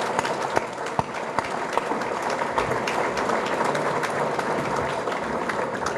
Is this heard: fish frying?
no